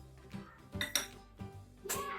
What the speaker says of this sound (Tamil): இப்போ நான் பொரியில வெங்காயம் போடுறேன்